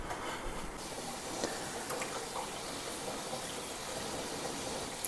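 Water streams steadily and gently into a baking pan holding ramekins of crème brûlée, a soft continuous pour with faint splashes and no voices.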